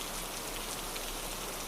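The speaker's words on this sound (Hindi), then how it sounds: "ये तो पूरी रात बरसने वाली बारिश है" Steady, even rain at night, heard as a soft continuous hiss with no other sounds over it, in an animated horror story.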